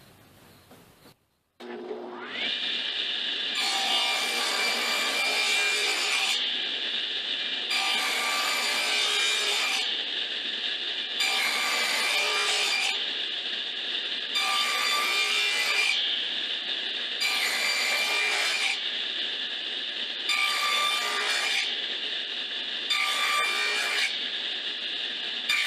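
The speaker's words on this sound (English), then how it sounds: "now I reset the blade height so it's about 1/2 inch lower than it was before, and will nibble away the bottom of this" Table saw blade nibbling repeated passes through wood for a lap joint on a bike rack, loud and close: eight regular bursts of cutting roar separated by brief dips, with a motor whine running steadily underneath.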